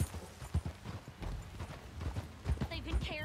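Horse hooves galloping in Red Dead Redemption 2, a rapid clip-clop running steadily under a man's speech and other game sounds throughout.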